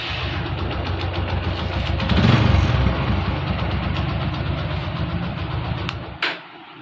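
An Apache RTR motorcycle engine, just repaired after a self-start fault, idles in neutral close by with a steady throbbing rumble that swells briefly before the engine cuts off abruptly near the end.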